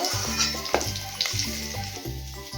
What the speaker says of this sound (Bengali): আমার আলু ভাজাটা হয়ে গেল।